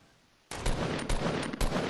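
Loud rapid gunfire bursts in the Fortnite video game, a sudden onset followed by sustained automatic fire with several punchier shots, close and dense with no talk over it.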